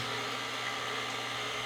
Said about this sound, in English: sorry about the noise, but it's the egg white whipping up